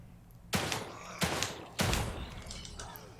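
Three heavy, well-spaced gunshots in The Evil Within 2, each a loud booming crack that decays slowly, with a fainter fourth report at the end over quiet ambience.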